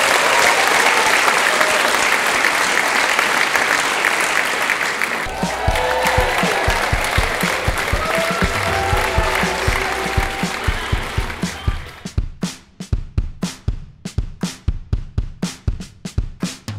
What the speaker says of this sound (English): A big round of applause and let's get things underway.